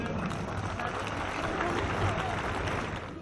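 A crowd at a traditional archery and cirit (javelin) horseback event in Biga applauds in a steady, dense wash of clapping that holds at even loudness throughout, with some crowd noise mixed in.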